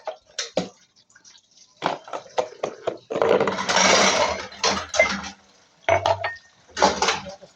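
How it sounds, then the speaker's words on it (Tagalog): Dishes, plates and glasses being washed with water: repeated clinks and clatters of crockery, a longer stretch of running, splashing water, then more knocks of glasses and plates. "Hugasan tayo ng pinggan."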